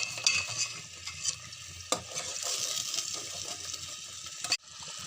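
Spices stirred into chicken nihari in a hot pot, a continuous frying sizzle with soft scraping strokes of a spoon, quiet and close, with one sharper knock near the end.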